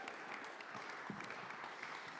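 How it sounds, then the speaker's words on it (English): Audience applause at a community hub event, a steady wash of clapping that stays even and fairly faint throughout the short stretch. "Let's give them a round of applause."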